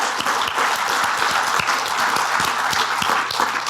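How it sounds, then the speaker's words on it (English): An audience at a live forestry panel applauds the panelists, a loud, steady burst of many hands clapping that fills the whole stretch without any talk over it. "A big thank you to my panelists for joining me on stage here. Round of applause."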